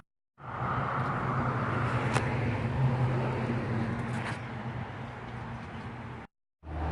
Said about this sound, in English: Pardon the road noise. I live next to a busy road.